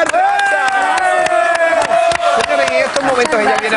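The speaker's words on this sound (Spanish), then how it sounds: "Fuerte el aplauso para Adriana Barranza." A studio audience claps for actress Adriana Barraza in a loud, rhythmic series of sharp hand strikes while a strong voice carries over the top.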